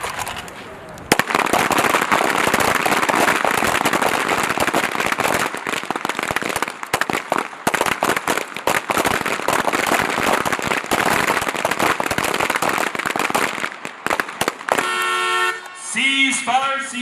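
Pistol shots ring out at an outdoor Army shooting range at Fort Benning during a small arms championship, sharp cracks from several shooters firing in rapid, irregular bursts throughout, with distant voices and a final electronic beeping tone.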